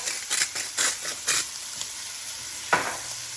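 Green beans cooked hibachi-style on a home griddle give off a steady close sizzle, with several rhythmic bursts of stirring and scraping early on and one more near the end.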